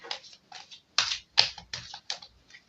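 Tarot cards being shuffled give a series of crisp, close riffling bursts in an uneven rhythm, each short flutter separated by brief pauses, with no talking.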